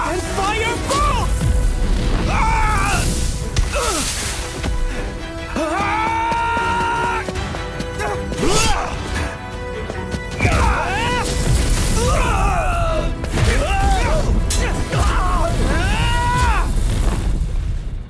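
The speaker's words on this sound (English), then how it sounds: "It took multiple magic blasts to finally bring them down." Anime fire bolt magic blasts exploding in a battle, repeated booming impacts and crashes layered among shouting voices and strained vocal cries.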